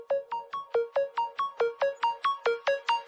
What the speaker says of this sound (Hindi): एक्सक्यूज मी, फोन आ रहा है।